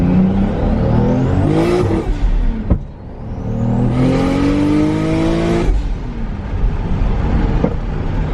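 A bone-stock-bought, owner-modified JDM car revs hard nearby in Germany, its exhaust rising and falling through several loud sweeping pulls with sharp pops and crackles between them, and no talking.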